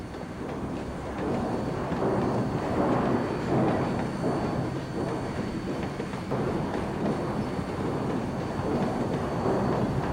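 A heavy steam train, Southern Pacific locomotive 4481, rumbles steadily nearby pulling into Lathrop Station, with rolling mechanical noise and faint clatter from the wheels, continuous and fairly loud throughout.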